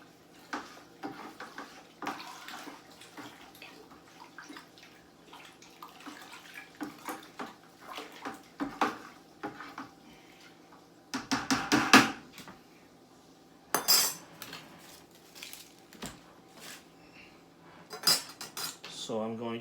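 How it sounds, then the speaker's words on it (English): A big slotted spoon scrapes and clinks against a bucket while stirring garlic and herb turkey brine, with sloshing liquid and irregular bursts of clattering, some louder clanks near the end. "you want to get a big slotted spoon, and you want to stir your mixture up."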